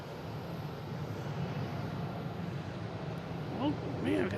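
A Delta airliner takes off at Boston Logan Airport as a faint, distant, steady jet roar, with a few brief chirps near the end.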